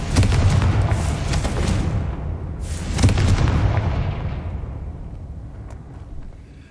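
Confringo spell blasts in the video game Hogwarts Legacy, with two loud booming explosions a few seconds apart, each one trailing off into a long rumbling decay.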